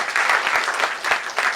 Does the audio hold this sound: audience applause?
yes